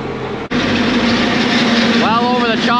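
A forage harvester chopping 13-foot-tall corn, its engine droning loud and steady throughout with a brief dropout near the start, while a voice talks over it toward the end.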